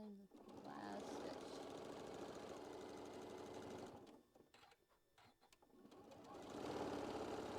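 A sewing machine stitches a quilt block in a steady, close, loud mechanical run that stops briefly near the end before restarting, with talk over it.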